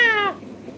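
A young house cat gives one clear, close meow with a falling pitch, about a third of a second long, then quiet room tone.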